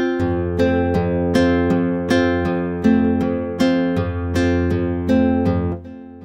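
Band-in-a-Box playing back a three-beat waltz pattern, with evenly spaced sustained keyboard-like chords repeating in a steady, unswung triple rhythm.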